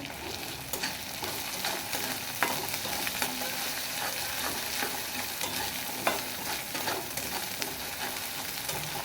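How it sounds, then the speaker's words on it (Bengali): Chicken with ground coriander and cumin fries in a pan while being stirred, giving a close, continuous sizzle broken by scraping and clinking of the utensil against the pan. "দিয়ে ভালো করে আমি উপকরণগুলো নেড়ে চেড়ে নেব।"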